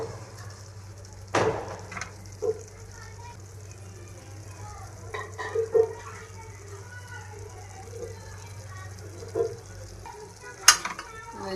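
Dried fish stirred in a frying pan, a low steady frying hiss with occasional scrapes and clinks of the utensil against the pan, with a voice talking over it at times.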